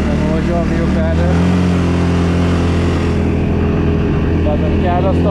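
A single-cylinder 500cc 4x4 quad bike engine runs steadily and loudly throughout, a continuous throbbing drone close to the microphone with a voice talking over it.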